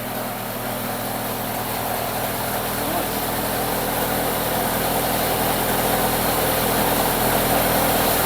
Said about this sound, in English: One newly built Pinto running sweet as a nut.